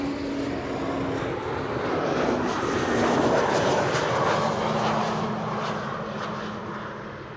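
A Suparna Airlines Boeing 777 arriving at Amsterdam Schiphol from Nanjing, a sustained jet engine roar with a faint whine that swells toward the middle and then eases, heard at a distance without voices.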